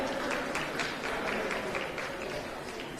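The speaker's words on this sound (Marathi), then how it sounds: "जुईली पांगम हिच्यासाठी एकदा जोरदार टाळ्या वाजवूया" An audience at a live event in Sawantwadi applauds a local news anchor, a dense, continuous wash of clapping heard from some distance with faint voices mixed in.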